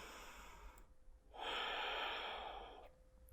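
Slow, deliberate yoga breaths during a power flow class, a soft exhale followed by a long, louder airy breath that swells and fades, close to the listener.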